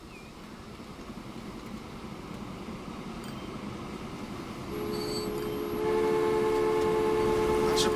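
Trains rumble along the tracks in the Transport Fever game, a steady low rolling noise that grows louder toward the end, where a sustained horn-like tone joins in.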